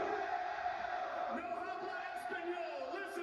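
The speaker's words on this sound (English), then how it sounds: "You could hear the crowd going ballistic there in Texas" Wrestling crowd at an AEW Dynamite show in Texas roaring and cheering loudly and steadily throughout, a dense wash of voices with occasional shouts rising above.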